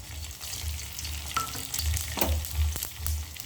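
Mustard seeds with fennel frying in hot oil, a crackling sizzle with scattered pops and low rumbling thumps, close and steady with no voices.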